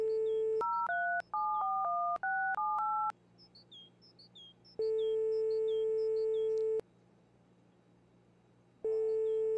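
Telephone keypad dialing tones in a video game: a quick run of beeping digit tones, then long steady tones separated by pauses, with faint chirping in the background.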